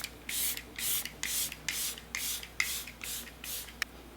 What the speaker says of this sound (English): So I'm just gonna go ahead and spray my whole face.